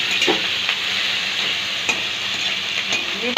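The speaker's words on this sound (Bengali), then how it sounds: "ভালো করে নেড়ে নিয়ে টমেটোটা দিলাম কাঁচা লঙ্কা দিলাম" Tomato and green chili frying in a pan while being stirred, a steady close sizzle with repeated scraping strokes of the spoon against the pan, no voices.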